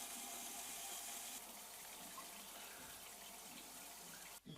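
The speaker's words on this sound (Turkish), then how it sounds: "Bu da tasarruflu bir şekilde akan duş başlığımız." Water pours steadily from a water-saving shower head in an even, continuous hiss, with no voices.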